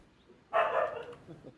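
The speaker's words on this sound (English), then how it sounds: "Excuse the dog, guys." A family dog barks in a home somewhere near a player's computer setup, one brief muffled burst of barking that fades into quieter noise, heard alone.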